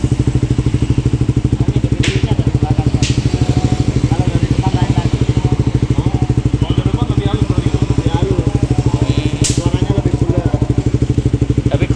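A Suzuki GSX 150 motorcycle fitted with a Villan aftermarket exhaust idles loudly up close, a fast even throbbing pulse with a couple of sharp clicks and faint background voices.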